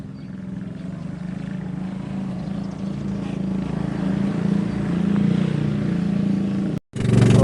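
A steady motorboat engine on a brand-new boat drones close by at sea, low and continuous, with a brief cut near the end before it resumes.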